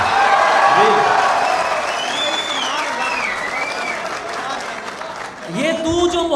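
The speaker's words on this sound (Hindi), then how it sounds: "आपके लिए बहुत सी तालियां यार" Applause from an audience at a shayari poetry recital by a poet, a wash of clapping under crowd voices and someone speaking over it, with speech returning clearly at the end.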